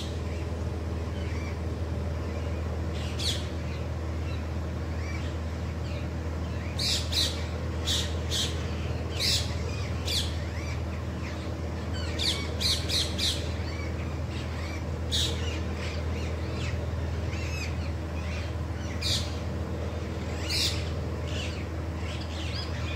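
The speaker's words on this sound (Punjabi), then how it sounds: "ਸਿਰਫ ਪੰਛੀ ਬੋਲਦੇ ਸੁਣ ਰਹੇ ਆ।" Birds calling on a quiet village morning in Punjab, repeated loud squawking calls in bursts over a low steady background hum, no speech.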